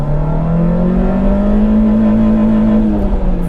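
A 1.4 litre car engine revving hard at high rpm, a loud, steady, close-up screaming drone with a rising then slightly falling tone, heard alone.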